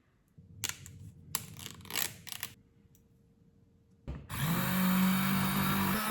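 A handheld blender whips cream into butter: after a few short bursts of clattering handling noise, the motor kicks in loudly and runs in a steady, close, buzzing whir, alone without talk.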